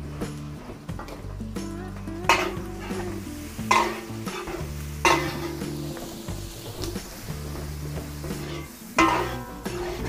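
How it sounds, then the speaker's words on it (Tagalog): Garlic and onion sizzle steadily in a pan while a spoon scrapes and stirs, with sharp periodic clanks against the pan at a relaxed rhythm, close and clear. "Lutuin lang po natin yung bawang. Lagay na po tayo sibuyas."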